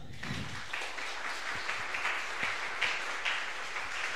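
Conference audience applauding together, a steady dense patter of many hands clapping at moderate level with no voices over it.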